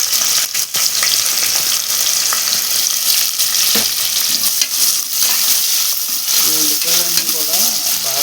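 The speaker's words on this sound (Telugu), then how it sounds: "ఉల్లిపాయలు వేసుకుంటున్నాం." Onions sizzle in oil with pulao spices while chicken pulao is cooked, a close, busy crackling fry with stirring scrapes and a faint voice near the end.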